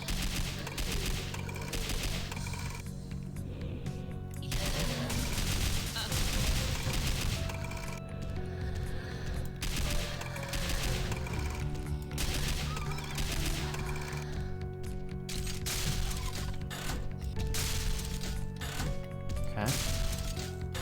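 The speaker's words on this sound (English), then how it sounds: "The mortar situation is crazy." Mortar fire in a modded DOOM game, a dense barrage of booming shots and blasts layered over game music, with a voice talking throughout.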